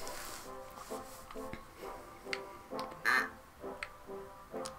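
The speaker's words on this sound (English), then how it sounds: "Is that a duck?" Quacking from a duck in the golf game Golf Story, short nasal calls repeated at uneven intervals over soft ticking game sounds, one call louder and sharper than the rest.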